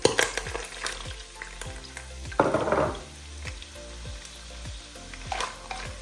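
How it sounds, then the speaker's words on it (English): Onions fry in half a cup of hot oil over a high flame, a close bright sizzle with repeated clanking stirs and scrapes of a utensil against the pan, including a louder burst of crackling midway. "fry the onions until they're nice and golden and brown"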